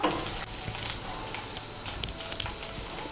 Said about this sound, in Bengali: আমি কাঁচা লঙ্কা বাটা আর রসুন বাটাটাকে তেলের সঙ্গে মিশিয়ে নেব। মিশিয়ে নিয়ে এটাকেও ভেজে নেব।